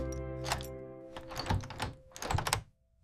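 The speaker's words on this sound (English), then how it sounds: "Turn the key." A key turns in a home's front door lock, giving a few sharp metallic clicks and thunks close by over a steady soft background tone.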